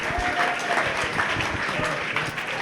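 A live podcast audience at a season finale claps and cheers together, dense close applause with shouts mixed in throughout.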